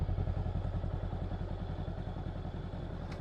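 A 2023 Honda Rebel 500 motorcycle engine runs while riding, a steady low throbbing pulse with a fast even beat, loud and close throughout, with a faint click near the end.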